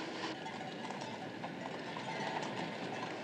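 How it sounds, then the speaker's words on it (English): Horse and wagon on a pedestrian way, hooves clip-clopping in a steady rhythm amid wheel rumble and busy street noise, fairly faint. "Look, there's a horse and wagon on the pedestrian way."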